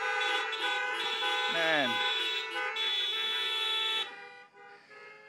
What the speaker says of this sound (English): Let's give them a honk.